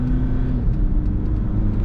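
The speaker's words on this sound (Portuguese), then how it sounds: "A aceleração dela." A car accelerates on a test drive, a steady engine drone with a rising hum, heard from inside the vehicle and continuous with no talking.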